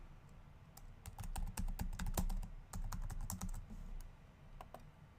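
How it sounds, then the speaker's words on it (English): Fingers tap quickly on a computer keyboard, entering an email address and password in irregular bursts of sharp clicks with a brief pause midway, close and quiet, with no voices. "ANAND8291@outlook.com, and then type in my password"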